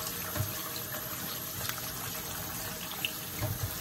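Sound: pouring cold water over cooked pasta

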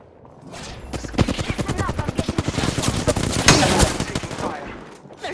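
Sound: gunfire in Apex Legends video game

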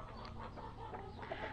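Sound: young hens clucking

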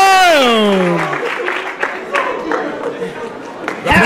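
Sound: wrestling crowd cheering

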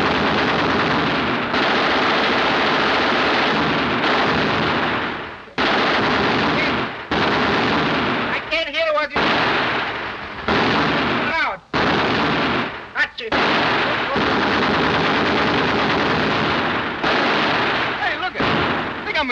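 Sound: machine gun fire

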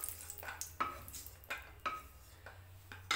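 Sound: roasted almonds being taken out of the frying pan

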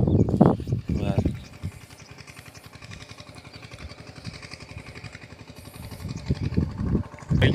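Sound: tractor engine running on a farm

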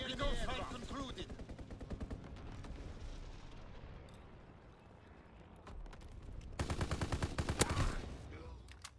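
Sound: aircraft strafing gunfire in the video game Call of Duty: WWII

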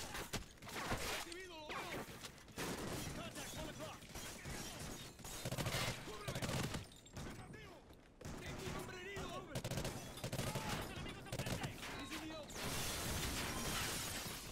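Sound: gunfire in Call of Duty Ghosts video game

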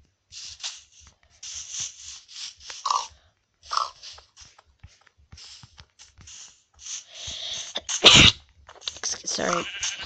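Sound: sneeze

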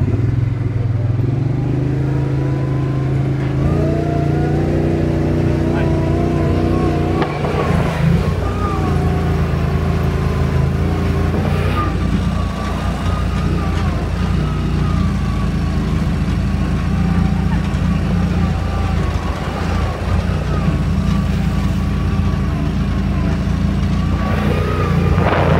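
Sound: car drifting with engine revving

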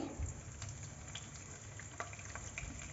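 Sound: curry leaves, mustard seeds and cumin crackling in hot oil

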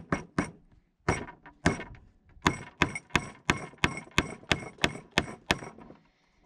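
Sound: wooden peg being hammered in

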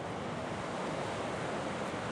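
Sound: ocean waves on Cabot Trail, Nova Scotia

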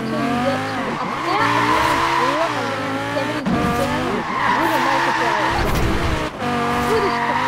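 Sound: car drifting with tire skid on airstrip, video game Forza Horizon 4

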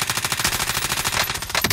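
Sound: gunfire in Call of Duty: Modern Warfare video game

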